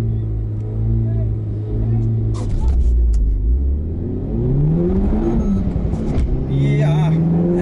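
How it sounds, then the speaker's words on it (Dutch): A four-wheel-drive Mercedes-AMG A45 S with 421 hp launches from a standing start, its loud engine note climbing and dropping through rapid gear changes, with a voice talking over it. "Ja, en dan is de Mercedes weg met zijn vierwielaandrijving en zijn 421 pk."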